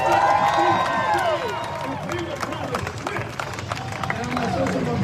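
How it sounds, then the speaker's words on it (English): An outdoor protest crowd claps and cheers loudly, with shouts and whistles over a dense wash of applause and a nearby voice cutting through at the start. "Give yourselves a round of applause."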